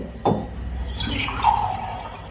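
A brief splash followed by water pouring and trickling into a cooking mixture of raw papaya and spices in a container, a single close pour lasting a couple of seconds.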